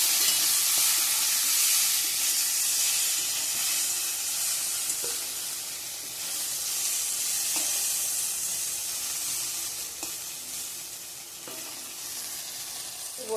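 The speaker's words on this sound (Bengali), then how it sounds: "এদিকে ভেন্ডি আর পটল ভাজাটা করে নিচ্ছি।" Okra and pointed gourd fry in a home kitchen pan, a continuous bright sizzle with occasional stirring scrapes, steady and close with no talking.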